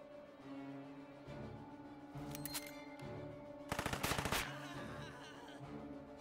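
Bursts of gunfire in a World War II turn-based strategy game, two loud rapid volleys, one at about two seconds and a heavier one near four seconds, heard over a steady low game soundtrack.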